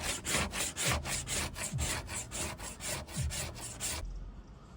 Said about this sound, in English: I hold the scraper at a 45-degree angle and move gently across the board